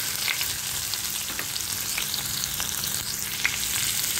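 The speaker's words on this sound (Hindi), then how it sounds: "अब इसके अंदर डाल रहे हैं 1 बड़ा प्याज बारीक कटा हुआ" Finely chopped onion fries with cumin in hot oil, giving a close, even crackling sizzle with soft stirring scrapes throughout and no voices.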